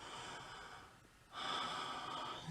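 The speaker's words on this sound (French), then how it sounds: "Elle prend une grande respiration" A deep breath drawn in during a French children's story about Babette, a soft, faint inhale followed by a louder, steady breathy rush that holds to the end.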